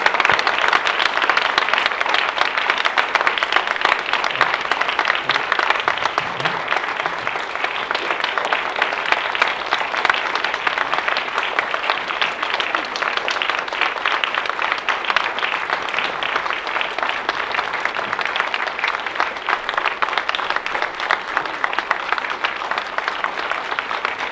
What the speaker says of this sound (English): Please give that round of applause for them.